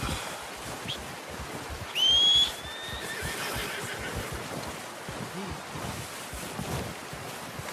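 A horse in Red Dead Redemption 2 lets out one short, rising whinny, fairly close, over steady wind and outdoor ambience that continue around it.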